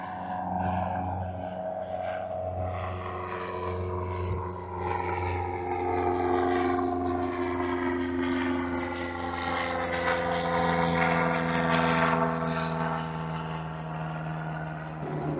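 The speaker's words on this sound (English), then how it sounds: "I'll let you watch this plane take off behind me back here." A propeller plane takes off in the background, its engine drone rising and shifting in pitch as it pulls away, steady and moderately loud throughout with no talk over it.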